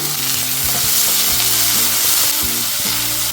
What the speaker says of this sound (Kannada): ಈರುಳ್ಳಿ ಬೆಂದಾಗ ನಾನು ಟೊಮೆಟೊ ಹಾಕ್ತೀನಿ